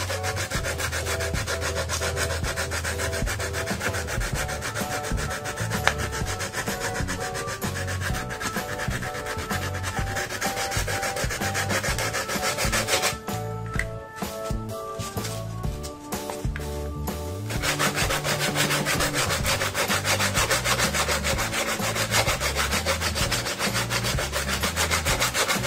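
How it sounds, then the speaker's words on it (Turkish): Sandpaper scrapes steadily and briskly against wire, stripping its insulation, at close range, with a short pause midway before the rubbing resumes. "aynı şekilde zımparalayarak"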